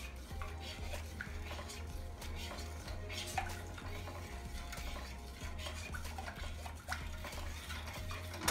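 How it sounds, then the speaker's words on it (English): A pot of candy apple coating tinted with a drop of navy blue coloring is stirred steadily, giving continuous close scraping and swishing over a low, constant hum. "And I am just going to give it a stir."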